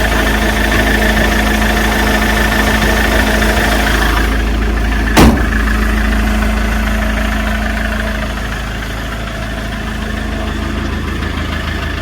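Iveco ex-police surveillance van with a steady, smooth diesel idle, loud and close throughout, with one brief sharp click partway through and no talking.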